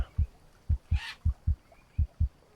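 A heartbeat effect in the jungle survival game Green Hell, low thudding beats in paired lub-dub rhythm, close and clear, with a brief hiss in the middle and no talk.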